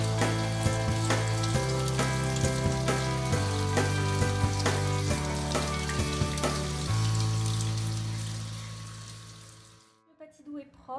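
Running water from a tap pours steadily over a patidou squash during washing, a continuous splashing rush broken by small knocks, ending abruptly in near silence.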